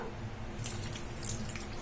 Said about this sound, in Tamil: இதுல வந்து நம்ம தண்ணி சேர்த்துக்கலாம்.